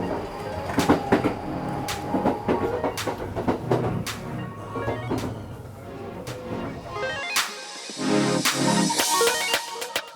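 Steady rumble and rattle inside the cabin of the Shimakaze express train in Mie, Japan, with clunks and a sliding door thud, then a brief quieter hiss near the end.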